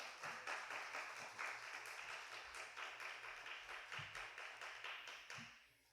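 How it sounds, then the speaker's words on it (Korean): A church congregation claps to welcome a visiting missionary pastor at a Sunday young adults' service, a faint, distant patter of many hands with a few sharper taps, steady throughout before trailing off at the end. "네, 우리 박수로 환영하겠습니다."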